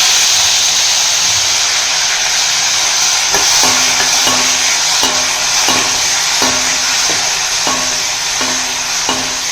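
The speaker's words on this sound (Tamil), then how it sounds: "சால்ட்டை சேர்த்துன்னு இது நல்லா வதங்கட்டும்." Tomatoes, green chillies and curry leaves sauté with salt in a pan for a brinjal gothsu, giving a loud continuous sizzle with regular spoon scrapes and stirring knocks through the second half, with no voices.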